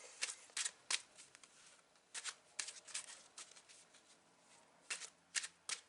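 Tarot cards shuffled by hand in a quiet room, clusters of crisp riffling flutters in quick bursts with short pauses, close but soft.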